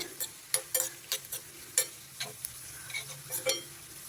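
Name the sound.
tempering with curry leaves, fenugreek, asafoetida frying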